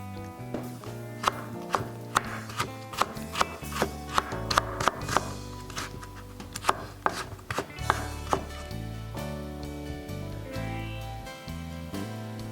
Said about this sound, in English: Shred carrot into much thin sticks.